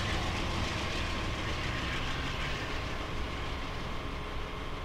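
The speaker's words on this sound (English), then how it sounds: "there goes the Metro North train" A fairly loud Metro North commuter train rolling past near New Haven in Train Simulator 2017, a dense, steady rumble and rail roar holding at constant volume throughout with no talk.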